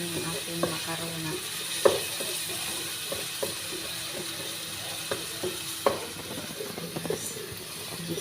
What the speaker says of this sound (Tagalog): Igisa na natin yung ating sibuyas guys.